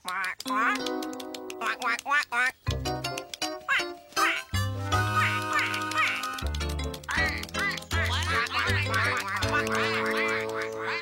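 A cartoon mother duck quacks repeatedly as she leads her ducklings, the calls loud and close over a busy animated soundtrack with music throughout.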